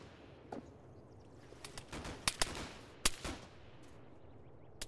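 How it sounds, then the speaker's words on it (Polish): Gunshots in the video game Arma 3 Breaking Point, a few sharp distant cracks spread out over a quiet background, including a close pair of shots, fairly faint overall. "Gdzieś były strzały, gdzie tu są strzały?"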